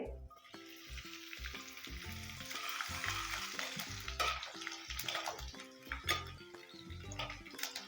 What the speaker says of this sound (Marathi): तेल तापलं आहे त्याच्यामध्ये एक चमचा जिरे एक टेबलस्पून लसणाचे बारीक बारीक केलेले तुकडे